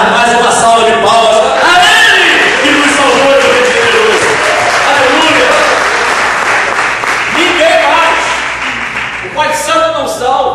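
A church congregation breaks into loud, close applause mixed with voices and shouts, the clapping thinning briefly before swelling again near the end.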